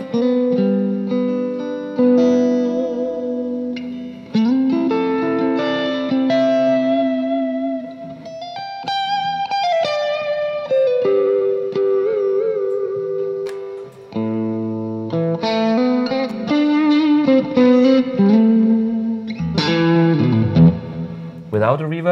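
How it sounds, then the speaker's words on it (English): Electric guitar through an amplifier with its built-in reverb, playing distorted sustained notes and melodic runs, loud and close, with a spacious, lingering tail behind each phrase. "now I put in the reverb from the amp one"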